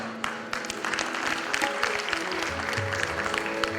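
Audience applause at a ghazal concert: dense, steady clapping from a crowd that stays even and full for the whole stretch, with no voices over it.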